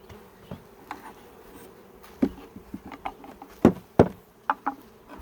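Honey bees buzz around an open hive box during a transfer from a nuc to a 10-frame box, with scattered close buzzing passes and soft taps against the wood.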